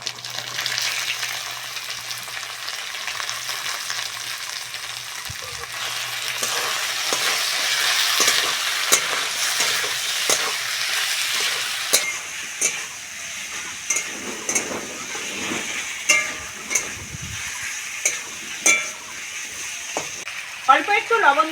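Tomato and capsicum fry in an oil-slicked pan for a Bengali fish curry, a steady close sizzle with scraping stir strokes and clinks building toward the end, with a voice speaking faintly under it at times.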